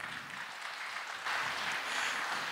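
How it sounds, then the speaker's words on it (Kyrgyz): A seated audience at a 2019 sports awards ceremony applauds in a steady, dense wash of clapping that swells slightly louder halfway through and carries on without a break. "албетте сиздердин кол чабыңыздар менен"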